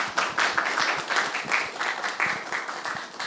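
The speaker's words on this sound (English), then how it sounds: "Please give them a final round of applause." An audience claps for a panel at the close of a public event, a lively round of applause with distinct individual claps, swelling and easing slightly over a few seconds.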